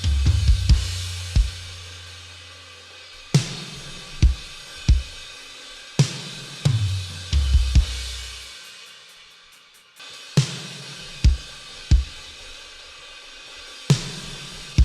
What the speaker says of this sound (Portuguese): Esse é o som da bateria processado.